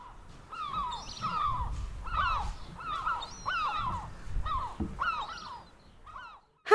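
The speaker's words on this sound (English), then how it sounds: "We like to hear the friendly seagulls sing at the seaside." Seagulls at the seaside call again and again in harsh, repeated cries, fairly close and clear over a low background rumble, with no talking.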